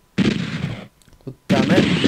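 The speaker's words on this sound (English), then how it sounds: "Someone's shooting me." Gunfire in the video game DOOM 64 comes in two loud, dense bursts separated by a short lull with a few faint pops.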